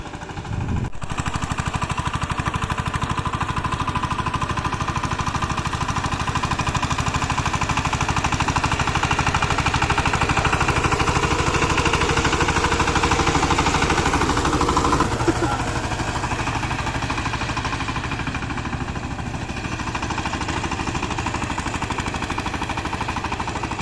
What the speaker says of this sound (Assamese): মই পাৱাৰ টিলাৰ লগাই দিছোঁ